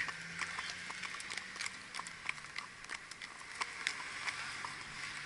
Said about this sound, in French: Donc on peut voir les chevaux qui attendent au bord de la route.